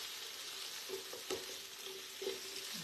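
Asparagus sizzles quietly on an All-Clad grill, a soft steady frying hiss broken by a few light clicks and knocks as the spears are stirred and turned, without speech.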